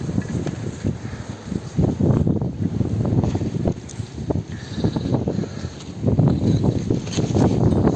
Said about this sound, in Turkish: Rüzgar adam alacak derecede.